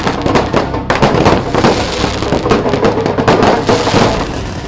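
A loud, dense barrage of celebratory fireworks in Bhopal crackles and pops continuously, overlapping bursts filling the whole stretch without pause.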